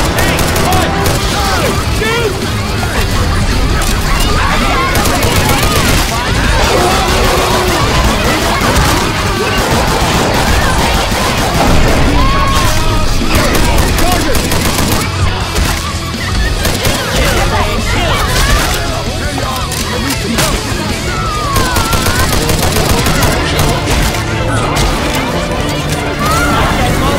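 Dense, continuous gunfire in the game Left 4 Impact 2, loud and close, with rapid bursts, crashes and booms layered throughout and voices shouting underneath.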